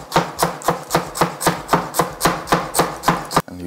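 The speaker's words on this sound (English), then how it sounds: "just chopping up some celery stalks here" A knife chops celery stalks steadily on a cutting board, about a dozen crisp, evenly spaced strokes in quick rhythm, close and clear.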